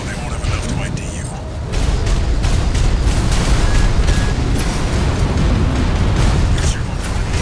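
Heavy, rumbling explosions and booms from the video game Armored Core 6 pile up continuously in a dense, loud barrage of combat noise, with bursts overlapping throughout.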